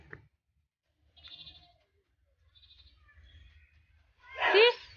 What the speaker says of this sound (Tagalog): Oh, goat.